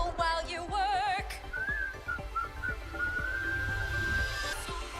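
Someone whistling a melody, a brief bright tune with wavering and sliding notes over a low background hum.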